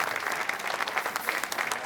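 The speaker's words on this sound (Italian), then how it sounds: "le dedichiamo anche un bel applauso anche a lei" An audience at an outdoor evening orchestra concert in a town square in Jesolo applauds steadily, a dense patter of many hands held at an even level for the full stretch.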